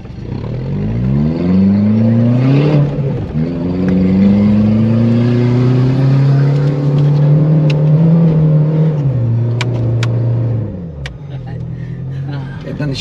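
A car engine roars and revs hard while climbing a sand dune in a line of SUVs and pickups, pitch rising and holding strong for about ten seconds before dropping off, with voices talking over it.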